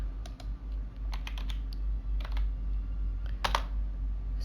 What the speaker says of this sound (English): I'll just type in options.